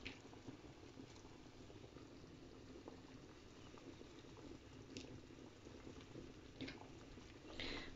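A pot of rice soup bubbles and gurgles steadily at a low level, with occasional louder pops and splashes breaking the continuous simmer.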